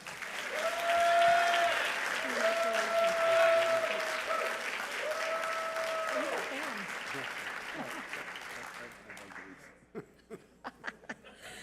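Audience applause fills a hall at an awards ceremony welcoming a new ASC Fellow, loud and steady for several seconds, with a speaker's voice over it, then thinning into a few scattered final claps.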